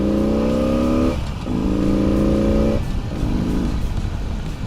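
Exhaust of a 2016 Harley-Davidson Roadster custom motorcycle revs in two long, loud pulls with a brief dip between, then a shorter, softer third rise, close and with no talking.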